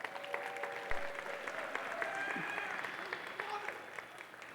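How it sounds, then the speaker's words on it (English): An audience at a high school magic show claps steadily and fairly quietly, with whistles and faint voices cutting through the applause throughout. "Give applause if you're enjoying it."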